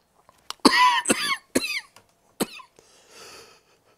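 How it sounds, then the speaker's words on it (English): A man coughs several times in sharp, hoarse bursts, close to the mic, with short pauses between them and a softer breathy exhale at the end. "still got a bit of a cough"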